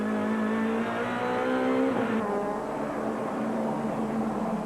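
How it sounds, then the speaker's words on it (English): In-car engine roar from a 1999 touring car, a BMW among the field, racing at the Kyalami circuit, steady high revs dropping as it brakes toward a slow corner, loud and continuous with no talk. "In car with Michael Briggs as they come up towards Gestetner, the second slowest corner on the AA Kyalami circuit"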